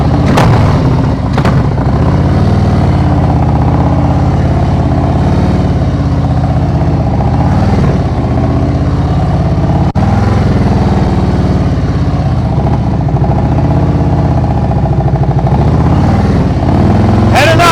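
Motorcycle ridden at slow speed in a practice session, a steady mid-pitched engine hum with small throttle changes, close by, while an instructor talks over it.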